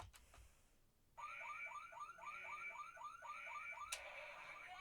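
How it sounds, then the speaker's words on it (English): A toy axe, the Boonboomger DX BoonBoom Change Axe, plays an electronic car-alarm tone after a second of quiet and loops a rapid warbling siren pattern, loud and steady, with a sharp click near the end. "it'll pretty much just make the car alarm sound as long as you hold it"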